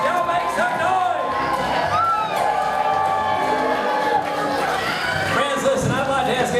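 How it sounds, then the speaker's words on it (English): A crowd at a lumberjack feud show cheers the champions, with whoops, shouting and excited chatter rising and falling continuously throughout, nearby and loud. "Y'all make some noise!"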